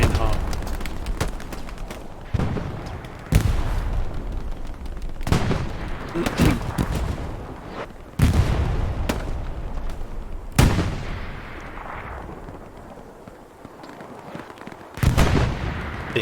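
In a competitive Infiltration video game match, a grenade explosion and repeated gunshots ring out, sharp loud booms and cracks spaced irregularly across the stretch, with a commentator talking throughout.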